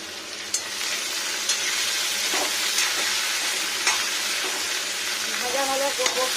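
Cut vegetables fry in a pan for a vegetarian lunch, a continuous bright sizzle with occasional stirring scrapes and taps, close by, with a brief voice near the end.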